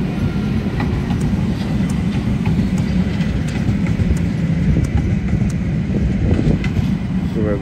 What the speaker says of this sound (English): let's this train pass